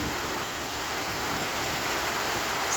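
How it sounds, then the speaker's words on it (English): Steady rain pours during a morning thunderstorm in East Texas, a continuous even hiss of falling water with no pauses, constant and moderately loud throughout. "It's a bit of a thunderstorm this morning"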